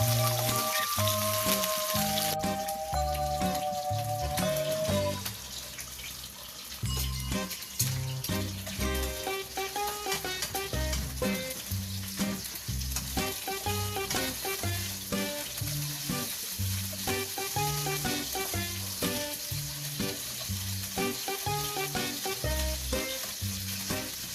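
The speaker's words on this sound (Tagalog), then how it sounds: "Sear muna natin guys." Meat searing in a hot pan for sinigang, a loud steady sizzle and crackle that runs throughout, with stirring scrapes and a brief dip partway through.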